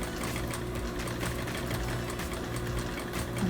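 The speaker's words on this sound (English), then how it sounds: "I'm going to stitch it like this. Go slow because it's a curve, it's not just a flat seam." A sewing machine stitching a curved seam on a cloth face mask: a steady, fast mechanical whir with a continuous rapid stitching rhythm, close and loud, without talk.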